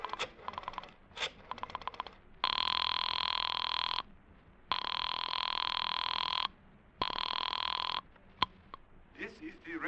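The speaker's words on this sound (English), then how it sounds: "found Dr. Matson B. Forsyth's number and I dialed it" A telephone rings after dialing in an old-time radio drama, three long steady electronic rings separated by pauses, preceded by short clicking dial pulses and followed by brief sounds as someone answers.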